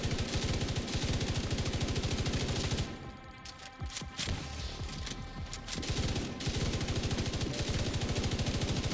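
Sustained light machine gun fire in The Division 2 during a work camp assault, a long loud stream of rapid shots that pauses briefly mid-way, then resumes with more continuous firing.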